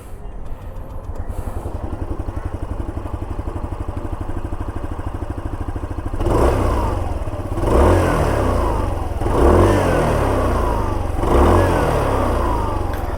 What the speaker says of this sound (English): let me just turn on the scooter and show you guys the exhaust note